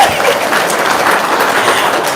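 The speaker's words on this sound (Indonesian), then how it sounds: "Tepuk tangan dong." Dense, steady applause from an audience at a talk, loud and continuous for a couple of seconds with no voices over it.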